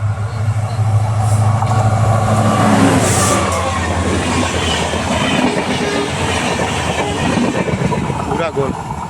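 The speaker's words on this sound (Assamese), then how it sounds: "ট্ৰেইনটো আহি আছে আপোনালোকে চাওক" A train passes over a railway line in Assam, a loud, sustained rumble with rhythmic wheel clatter close by, while a person speaks over the noise.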